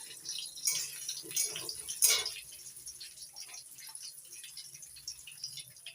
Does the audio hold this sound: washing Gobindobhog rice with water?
yes